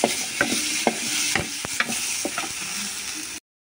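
Tempering for cucumber and tomato chutney sizzling in a pan, a loud continuous frying hiss broken by a few sharp spoon scrapes and clicks, cutting off abruptly near the end.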